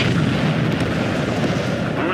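Artillery shells burst in Ace Combat 7 combat, a dense continuous rumble of explosions at steady loudness throughout with no clear gaps.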